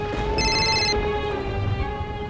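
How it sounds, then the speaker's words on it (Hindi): A telephone rings with an incoming call indoors during heavy rain, a steady electronic ringtone with bright repeating tones sounding over a constant background hiss of rainfall. "लो, हमारी मम्मी का कॉल आ गया।"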